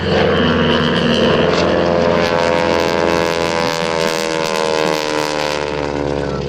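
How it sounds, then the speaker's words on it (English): A North American Texan SNJ advanced trainer with a 600 horsepower radial engine roars past at an airshow, its throaty propeller drone loud, steady and close throughout, with no voices heard over it. "600 horsepower and a North American Texan known to the Navy as an SNJ advanced trainer."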